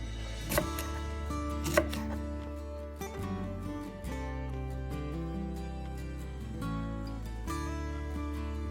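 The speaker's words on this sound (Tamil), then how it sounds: "வெண்டிக்காயை இப்படி ஸ்லைஸாக வெட்டினாத்தான்" Okra (ladies finger) is sliced with a knife for a spicy fry, with a couple of crisp knife taps on the board early, then quieter cutting over a steady low hum.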